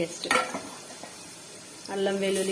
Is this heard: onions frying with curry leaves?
yes